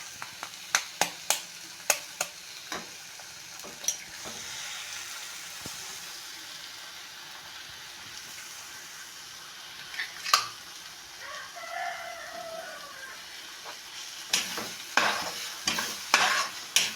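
Eggs fry on a low flame for egg poriyal as a spatula scrapes and taps the pan in bursts over a soft sizzle, with a rooster crowing in the background partway through.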